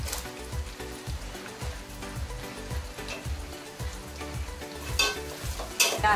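Carrots stir-fry with onions for Schezwan fried rice, a busy sizzle under rhythmic clanking and scraping of a ladle in a pan, steady and close, with a few sharper scrapes toward the end.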